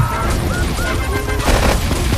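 Dense gunfire in the video game Grand Theft Auto III during a police shootout, a loud continuous barrage of shots and impacts with no pauses, filling the whole moment.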